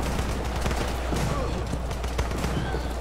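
Rifle gunfire in the video game Running With Rifles, a dense, continuous fusillade of overlapping shots and bursts, loud and sustained with a voice faintly in the mix.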